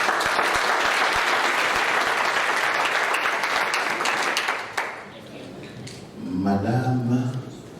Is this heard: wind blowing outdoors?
no